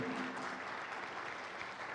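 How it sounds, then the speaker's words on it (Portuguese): A congregation claps during a Sunday morning church service, a quiet, even wash of applause from a roomful of worshippers that continues steadily without a break. "Aplauda o Senhor."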